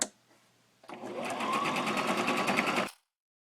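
A sewing machine zigzag-stitches along the long palm side of a mitten, one close continuous whirring run of about two seconds that starts abruptly after a soft clunk and stops cleanly.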